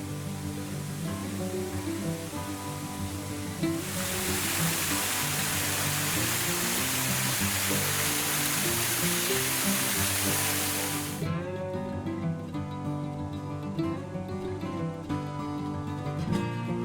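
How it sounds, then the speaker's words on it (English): Wentworth Falls pours as a broad, steady hiss of falling water that rises in mid-clip over a background of music, holding for several seconds before dropping away. "We actually preferred the waterfalls. They're much quieter, particularly the spectacular Wentworth Falls."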